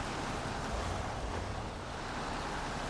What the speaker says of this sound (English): the noise as you move through the water is great